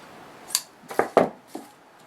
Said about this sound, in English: I'm just going to have to take the ribbon and we'll cut a piece off